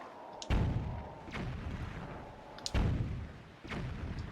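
Cannon fire in The Legend of Zelda: The Wind Waker lands as two heavy booming blasts, each a sharp thump with a rumbling tail, a couple of seconds apart and loud in the foreground.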